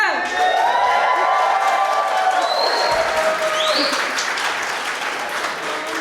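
A comic convention Q&A crowd in Brooklyn breaks into loud, sustained applause mixed with cheers and whoops, holding steady for several seconds at full volume.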